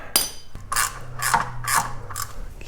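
A socket wrench tightening a bolt on a car drivetrain, a sharp metallic tap followed by three or four ratcheting, scraping strokes, close and fairly loud.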